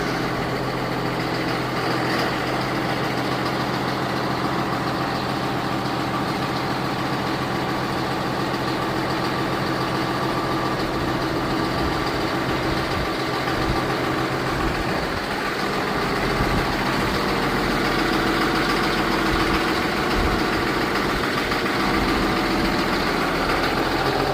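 Backhoe loader engine idling, a steady loud low diesel rumble running unbroken throughout.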